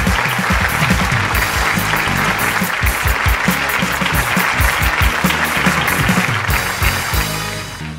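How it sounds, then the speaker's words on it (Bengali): Studio audience at a Bangladeshi TV comedy show breaking into loud, sustained applause with rhythmic clapping, dense and close, tapering slightly at the end. "একটা জোরে হাততালি হোক।"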